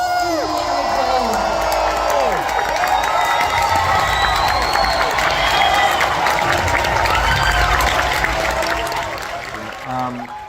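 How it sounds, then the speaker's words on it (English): Loud crowd at the Los Angeles red carpet premiere of Indiana Jones and the Dial of Destiny applauds and cheers for Harrison Ford, with steady clapping, whoops and shouts filling the scene and fading slightly near the end. "arousing applause for Harrison, which was absolutely amazing"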